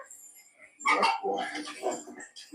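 A trained protection dog during bite work gives a few loud, close barks and yips in quick bursts, with handlers' voices mixed in around them.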